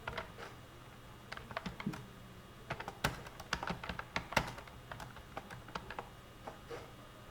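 Quiet, irregular clicking of a computer keyboard as a father's name is typed in Bengali into an online national ID card application form, in short bursts and pauses without speech.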